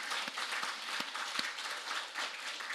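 A church congregation applauding during a retirement and installation service for a senior pastor, quiet and fairly distant clapping with a few sharper individual claps standing out.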